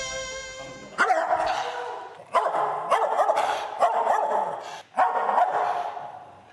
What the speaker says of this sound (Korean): 자, 이럴 때 이렇게 짖을 때는 어떻게 해야 되나요?